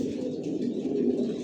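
Soft, continuous cooing from a loft of original racer pigeons, all one Johnson long bloodline, a steady near murmur of overlapping coos with no talking.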